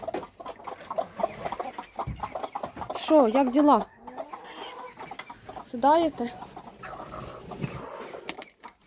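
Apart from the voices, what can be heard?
broody hens clucking in a coop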